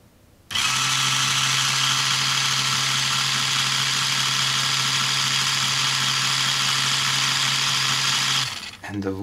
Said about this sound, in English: Now I'm gonna try to power these geared wheels.